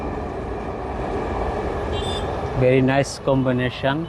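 A Dhaka metro rail train runs past near the Uttara Diabari kash flower field, a steady broad rumble filling the first seconds before a voice speaks over the fading noise.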